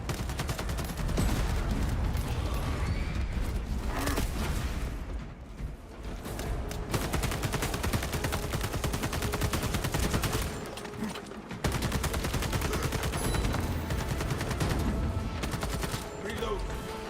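Rapid gunfire from a weapon in the video game Space Marine 2, dense bursts of loud shots with mechanical clatter, briefly pausing twice for reloads, with a voice talking over parts of it.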